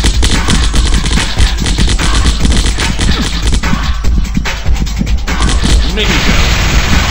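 Sustained, loud assault rifle fire in the Zombocalypse video game, dense rapid bursts continuing throughout with crashing impacts mixed in.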